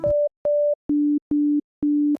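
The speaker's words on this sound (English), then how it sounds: "Now we are only hearing this sine wave here." Pure steady sine-wave tones from a Serum synthesizer oscillator pulse five times, two higher then three lower, each about a quarter second with short gaps between, clean and electronic.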